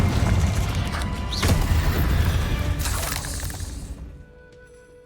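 A Confringo blasting curse in Hogwarts Legacy erupts during a fight with spiders: a loud, crackling, shattering burst that carries on for about four seconds, then fades to a quiet tail.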